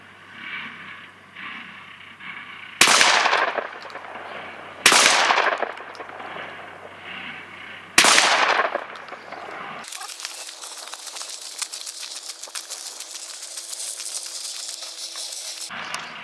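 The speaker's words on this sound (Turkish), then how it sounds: "3 tane tek kurşun atışımız" A D-DOXCARMS DCX-17 semi-automatic shotgun firing single slug rounds: three loud, sharp blasts spaced a couple of seconds apart, each with a ringing outdoor decay, followed by a steady hiss of wind or handling noise.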